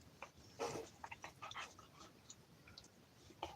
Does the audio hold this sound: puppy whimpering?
yes